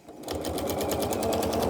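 A sewing machine running a quilting stitch in the ditch on a memorial quilt, a fast, even mechanical whir with rapid needle ticks, close and continuous, no talk.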